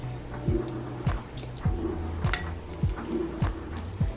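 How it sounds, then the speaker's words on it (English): Drained canned salmon being mashed in a bowl, a series of evenly spaced soft taps and clinks of a utensil against the bowl, close and alone. "first we're going to start off with some drained salmon, and just going to mash it up"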